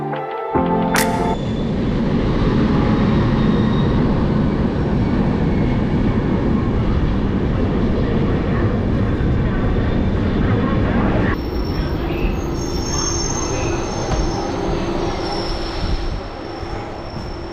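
Amarkantak Express, the Durg to Bhopal passenger train, running with a loud continuous rumble of wagons and wheels and a sustained metallic squeal heard up close, sounding a little different after a brief change partway through.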